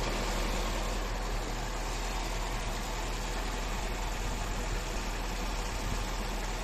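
A Citroën BX idles at a car gathering, raised on its suspension, giving a steady, even broadband rumble and hiss without change in pace or level.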